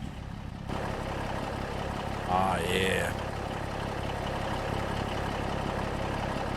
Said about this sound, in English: listen to this tractor fire up